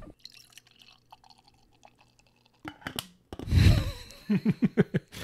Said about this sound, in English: I'm going to pour.